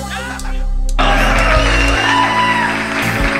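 A studio audience at a Mexican grupera music television show bursts into loud cheering, whoops and shouts that rise suddenly and hold steady, with some voices yelling over the crowd.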